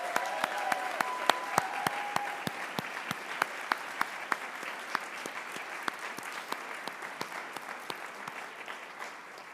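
An audience at a 2023 service recognition awards ceremony applauds its 30-year honorees, sustained clapping from a sizeable crowd that holds steady and then slowly fades, with a few louder claps standing out nearby.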